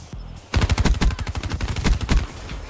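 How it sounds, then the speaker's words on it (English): Automatic gunfire in a first-person shooter gun game: a burst of about fifteen rapid, evenly spaced shots, loud and close, following a short quieter lead-in, no talking over it. "you shot right through the wall"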